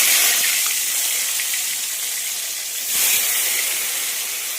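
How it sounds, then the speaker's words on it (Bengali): Fish frying in hot oil gives a loud, continuous hiss and sizzle close by, swelling briefly partway through. "মাছটা ভেজে ফেলি"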